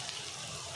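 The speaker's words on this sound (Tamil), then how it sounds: "உப்பு போட்டு நல்லா வதக்கி விட்டுட்டு" Small onions with salt sautéing in a pan, a short burst of steady close sizzling with a faint stirring scrape at the end.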